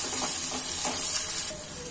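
Green chili and ginger-garlic paste fry with sautéed onions in a pan, a bright continuous sizzle with soft stirring scrapes, close and steady.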